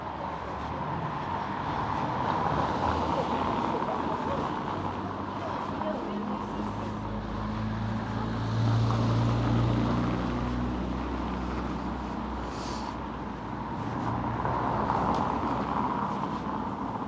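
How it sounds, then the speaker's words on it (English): Buses and traffic roll past on a street in Paguera, Mallorca, a steady low engine rumble with a heavier vehicle swelling up close around the middle, over outdoor ambience and someone talking. "quite a regular flow of buses come through here"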